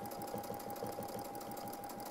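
Free-motion quilting on a sewing machine: a continuous, even rapid chatter of needle strokes with a steady motor hum, close and uninterrupted throughout.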